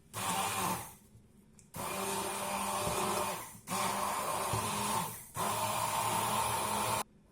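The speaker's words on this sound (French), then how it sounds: "on mixe jusqu'à ce qu'on commence à voir de la mousse comme ça" An electric blender whirs as it mixes baghrir crêpe batter, running in four sustained bursts separated by short pauses, each burst loud and steady.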